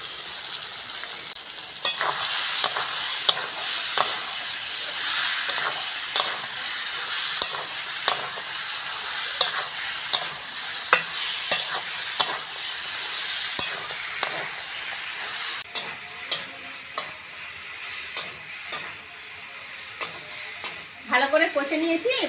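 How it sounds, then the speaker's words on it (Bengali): Crab, spices and fried potatoes are stir-fried in a pan for a spicy crab curry: a constant sizzle with repeated scraping stirs at a steady rhythm, close and fairly loud, no voices. "কাঁকড়া আর মশলাটা ভালো করে কষে নিয়েছি। এবার ভেজে রাখা আলুগুলো দিয়ে দেবো।"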